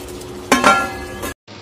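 A spoon stirs dum aloo potato gravy with chopped coriander in a pan, giving a few close clinks and soft scraping sounds, then a brief silence.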